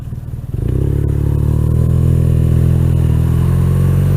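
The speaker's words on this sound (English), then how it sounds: "that is the quick tour of Forest Park by motorcycle" A motorcycle riding through Forest Park in Saint Louis, its engine close and loud, revving up from a rough idle into a steady, strong drone.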